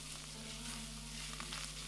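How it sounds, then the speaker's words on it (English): Bacon frying over gentle heat in a wok, with a soft, steady sizzle and crackle, faint and continuous with a low background hum. "Gentle heat to keep bacon frying until caramelized and crispy."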